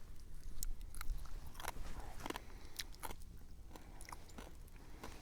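Close crunchy bites and chewing on crispy cooked rattlesnake jerky, with sharp brittle cracks spaced irregularly over a quiet background.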